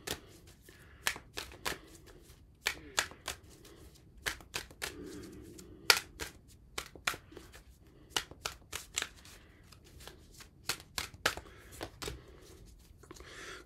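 Tarot cards being shuffled by hand, a steady run of crisp close-up flicks and riffles that goes on continuously and quietly throughout.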